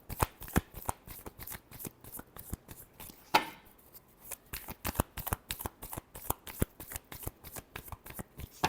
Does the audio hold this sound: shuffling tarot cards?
yes